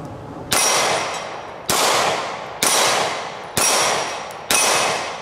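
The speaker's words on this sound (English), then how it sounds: "Now I'm going to take some headshots." Five loud gunshots fired at a target at a shooting range, a weapon fitted with a Viridian X5L laser and weapons light, each sharp crack spaced about a second apart with a short ringing decay, no talking.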